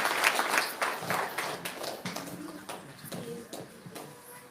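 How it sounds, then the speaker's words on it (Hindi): A congregation at a Thursday prayer meeting claps loudly, a burst of applause that starts strong and gradually thins, with scattered individual claps near the end. "इन्हें जोरदार ताली बजा के प्रभु का धन्यवाद"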